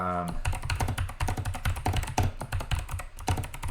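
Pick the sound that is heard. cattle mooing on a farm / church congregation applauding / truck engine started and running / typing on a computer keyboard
typing on a computer keyboard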